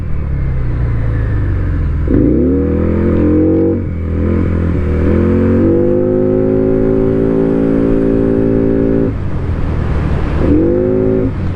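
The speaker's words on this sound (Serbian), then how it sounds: "V-Twin daje malo drugačiji osjećaj, odnosno drugačiju tu notu osjećaja zvuka tog, da ga nazovemo cruiser skutera." Benda Chinchilla 350 CVT V-twin cruiser scooter (2026) engine revving: a close, loud idle burble rises into a sustained high rev, drops, climbs again into a long held rev, then settles and blips once more.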